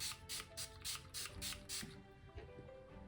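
Several short bursts of setting spray misted onto a face, about seven quick hissing pumps in a steady rhythm, close and fairly loud, then quieter room sound with no talking.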